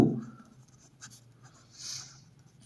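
Handwriting gives a few faint scratching strokes in a quiet room, spaced out over a couple of seconds.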